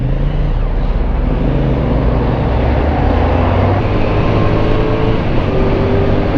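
Steady, close engine and road roar from a CFMOTO 450NK motorcycle with an Orion ARA exhaust riding in traffic, a continuous dense drone with subtle pitch shifts as it changes gears without the clutch.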